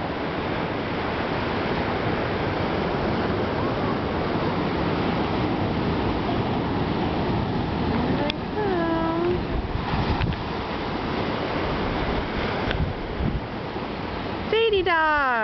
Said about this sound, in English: there go the waves